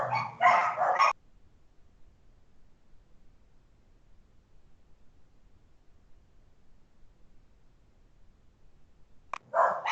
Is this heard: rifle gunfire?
no